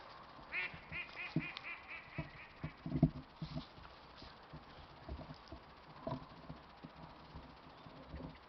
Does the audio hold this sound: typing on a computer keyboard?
no